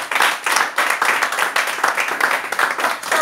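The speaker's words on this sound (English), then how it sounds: "give yourself a clap." A group of trainees and students clapping together in a room, a dense, continuous patter of hands lasting a few seconds, fairly close, with no speech over it.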